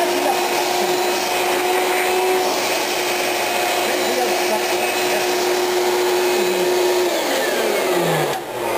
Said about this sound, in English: it's not a very good vacuum cleaner. In fact, it makes more noise than vacuum.